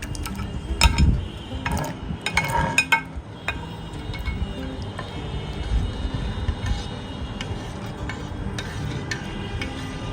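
Diced palm fruit flesh is stirred in a pot for jelly, with repeated scrapes and clinks of a spoon against metal over soft wet churning, close and moderate in level, the strokes coming in an uneven rhythm.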